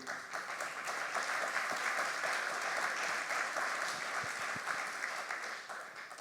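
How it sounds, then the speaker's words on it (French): Clapping fills a round-table hall of architects after an architecture project is presented, steady and fairly soft applause lasting the whole stretch without speech. "Merci, vous pouvez l'applaudir."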